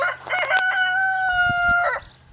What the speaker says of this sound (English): And the chickens come in there and work them leaves.